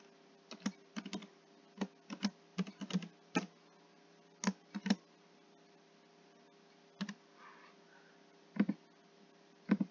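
Keys on a computer keyboard clatter in short bursts while an email and password are entered, close and fairly quiet clicks with brief pauses between clusters.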